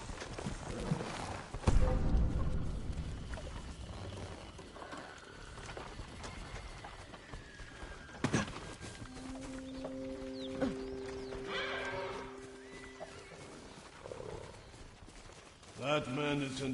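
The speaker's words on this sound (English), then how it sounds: "Follow those horses." In a game set in feudal Japan, horses gallop with rapid clip-clopping hooves and whinny in the middle distance, as wagon and background sounds rise and fall and someone speaks between the calls.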